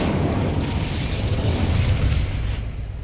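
Incendio fire spell cast in Hogwarts Legacy: a steady, loud roaring whoosh of flame with dense low rumble, sustained for a few seconds without speech.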